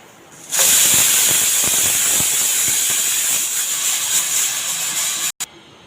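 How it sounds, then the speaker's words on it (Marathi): A pressure cooker whistle bursts into a loud, sustained hissing shriek that holds steady for several seconds before cutting off sharply. "गॅसवर आपण कुकर ठेवलेला आहे कुकरच्या सिट्ट्या होत आहेत"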